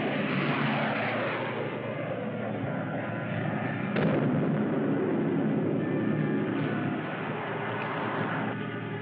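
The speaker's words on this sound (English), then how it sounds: "Great shooting, Rocky." Spaceship gunfire in a sci-fi show sounds as a dense, continuous roar of booming blasts and rumble, loud and unbroken, with a sharper hit near the middle and a few more later.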